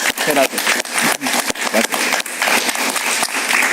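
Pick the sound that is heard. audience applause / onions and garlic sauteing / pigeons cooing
audience applause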